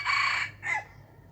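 A white decoy rooster gives one clear, close crow, followed by a shorter, fainter second call, against a quiet outdoor background.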